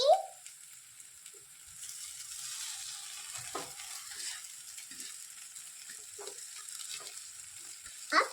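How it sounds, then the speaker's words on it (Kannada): Masala noodles being stirred and mixed in a frying pan, a steady soft sizzle with faint scraping strokes of the spatula throughout, fairly quiet and with no talking. "ತಗ್ಗೊ ಚೆನ್ನಾಗಿ ಮಿಕ್ಸ್ ಮಾಡ್ಕೊಳ್ಳೋಣ"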